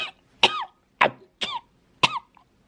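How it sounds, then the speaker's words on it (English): Five sharp, separate coughs from one person choking on food, evenly spaced and close, each a short harsh burst with silence between. "I'm choking."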